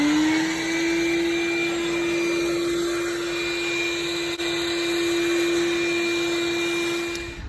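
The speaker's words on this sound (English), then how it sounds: "I'm going to vacuum that out with a shop vac to at least clear the channels and whatnot" A shop vac runs steadily near and loud with a constant motor whine, vacuuming debris out of the channels of an air conditioner unit's coil, with one brief dip partway through and no talking.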